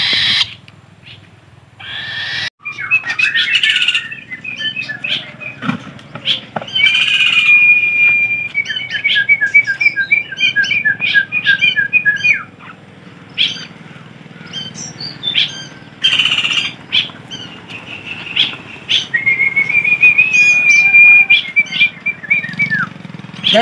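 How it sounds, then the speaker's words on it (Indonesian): Pet starlings and bulbuls chirp and whistle close by, repeated bright trilled calls in bursts between short pauses, with bird sounds throughout and no talking. "burung jalak, burung kutilang ya"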